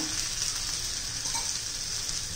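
Potato and varai vadas fry in ghee, a soft, even, continuous sizzle heard close by for a brief moment with no talking.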